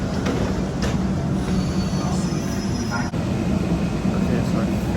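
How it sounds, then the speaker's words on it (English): A Singapore Downtown Line metro train pulls into the station, its steady broadband rumble and faint wheel squeal continuous and close throughout, with a brief dip partway through before the noise resumes. "the train has just pulled in on the downtown"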